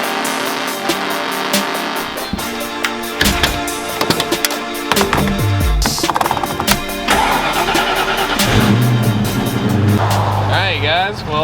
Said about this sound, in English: Alright guys, well, it's actually idling pretty good.